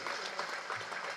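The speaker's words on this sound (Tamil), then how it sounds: "இந்த அரங்கம் நல்ல அதிர மாதிரி நல்ல பலத்த கரகோஷம் கொடுங்க அவருக்கு." Applause from a hall audience at a film audio launch event, a dense steady patter of many clapping hands filling the auditorium, with voices mixed faintly underneath.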